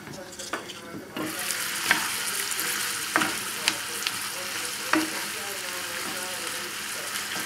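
Garlic, onions and apples sautéing in a pan for a pork loin dish, a steady close sizzle with occasional stirring clicks and scrapes, no talking.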